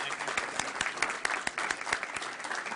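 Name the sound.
applause at board of education meeting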